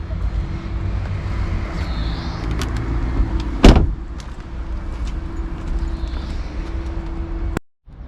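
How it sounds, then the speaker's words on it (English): Rental car in North Macedonia: a steady engine idle hums throughout, broken by a sharp door slam near the middle and a few lighter clicks and thuds, all close by with no talking. "So this is my rental car for Macedonia."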